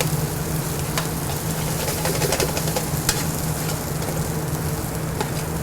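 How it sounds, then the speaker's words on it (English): Seafood paella rice sautéing in a pan, a steady close sizzle with a low hum and scattered crackles and pops, no voices. "Let the rice kind of saute on the bottom so that the paella will have a little bit of a crust"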